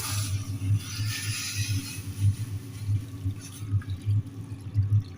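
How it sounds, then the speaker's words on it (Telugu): Water pours into a pot of chicken with a steady splashing gurgle, fairly close and moderately loud, with no one talking. "ఇప్పుడైతే మనం వాటర్ పోసేసుకుందాం"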